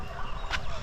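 A bird at a rainforest zoo on Hawaii's Big Island gives a short, bright call midway through, heard against a loud, busy outdoor background.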